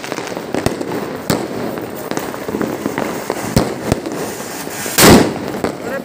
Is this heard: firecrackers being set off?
yes